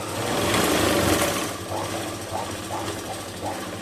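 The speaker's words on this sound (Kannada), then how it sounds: "ಮತ್ತೆ ಇನ್ನೂ ಒಂದು ಹೊಲಿಗೆ ಹಾಕೊತಾ ಇದ್ದೀನಿ ಇದ್ರ ಮೇಲೆ ನಾನು" A sewing machine stitches a button placket, running in a loud, fast whir for about a second and a half, then easing into a quieter, lighter run of rhythmic mechanical ticking, with no talking.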